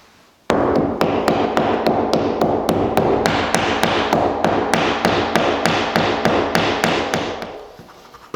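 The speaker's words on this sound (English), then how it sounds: "lay this block up against it, beat it in with a hammer" A hammer beats a wooden block against door trim and softened drywall: about twenty sharp, evenly spaced taps, close and loud, running steadily for eight seconds with no talking.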